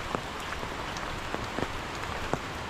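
Heavy monsoon rain in the Konkan countryside, a dense steady patter on surfaces with scattered louder individual drops close by, no voices.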